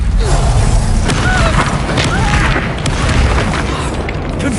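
A heavy, rumbling blast from the Confringo spell in Hogwarts Legacy, loud and sustained with a booming low end throughout.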